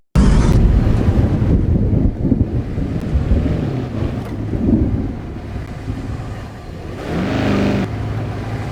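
A stormy roar from a Garry's Mod thunderstorm, loud steady wind rushing with surging gusts and a brief swell near the end, no voices over it.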